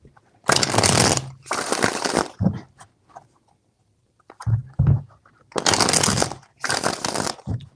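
Tarot cards are shuffled in several loud, close, rustling bursts, each lasting under a second, with short pauses between them and no talk.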